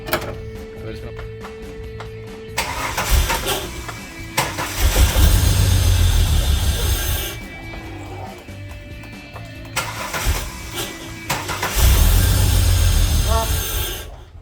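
Holden VY Calais car engine cranking and firing up, settling into a rough idle and revving in bursts, loud and close, with people talking over it.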